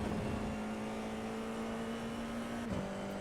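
A Formula 4 race car engine in iRacing at Laguna Seca drones at a steady high pitch, holding one note before dipping briefly near the end as it shifts or lifts, then settling again.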